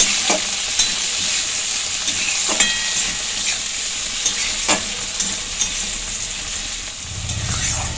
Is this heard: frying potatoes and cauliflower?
yes